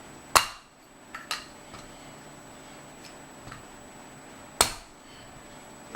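Two sharp mallet whacks on a part of a Honda Accord F23 engine during a rebuild, one early and one later, with lighter taps and clicks between them, close and otherwise quiet.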